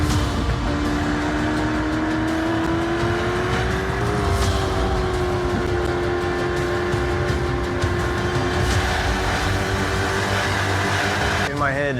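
A 01X race car driving a lap of a track, its engine a steady droning tone that climbs in pitch as it accelerates, heard from inside the car with a voice faintly under the engine.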